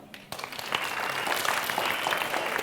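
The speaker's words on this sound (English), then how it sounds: "So clap for yourself." Students at a youth empowerment conference break into applause after a brief quiet start, a steady crowd of clapping hands that stays loud and dense to the end.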